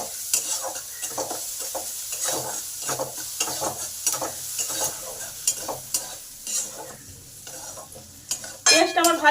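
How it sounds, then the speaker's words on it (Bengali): Salted onions frying in a pan, a continuous close sizzle with brisk, repeated stirring and scraping strokes against the pan, louder clatters near the end, no voices. "পেঁয়াজটা তাড়াতাড়ি ভাজার জন্য এতে স্বাদ অনুযায়ী নুন দিলাম।"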